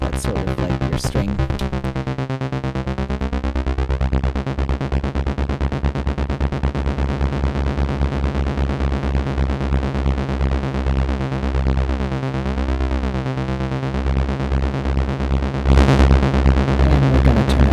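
An ARP 2600 synthesizer plays a buzzy, string-like sawtooth tone in sustained chords, thick and steady, with a slight chorus-like shimmer throughout.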